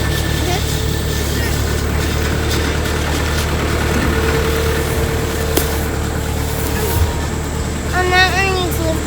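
A tractor engine idles and rumbles steadily during haymaking while people talk nearby, with some clanking in the background.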